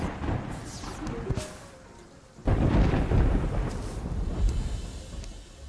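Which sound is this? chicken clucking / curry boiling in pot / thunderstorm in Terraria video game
thunderstorm in Terraria video game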